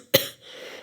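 A single sharp cough bursts out up close, trailing off into a brief breathy rasp.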